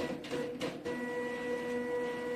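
A Zebra thermal label printer calibrating with Ferax 10x15 labels, a steady mechanical whir with a couple of quick feed bursts near the start, close and continuous, with no talking.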